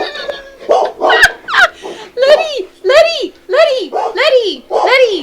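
Letty, a pet dog, lets out a rapid string of high, excited yips and barks close by, with a voice mixed in among them.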